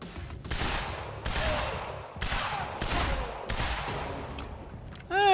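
Bursts of gunfire in the video game Quantum Break, several loud rapid volleys separated by short pauses, close and harsh with no voices over them.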